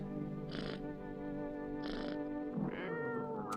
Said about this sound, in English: But I have a cat? Meow. Pet the cat.